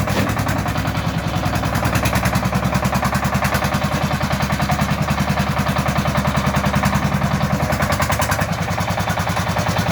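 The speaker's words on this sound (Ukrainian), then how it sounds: "Трактор на 35 кінських сил, одноциліндровий" Steady, rhythmic chugging of a 35-horsepower single-cylinder Shifeng 350L tractor engine running nearby, with distinct evenly spaced thumps repeating continuously throughout.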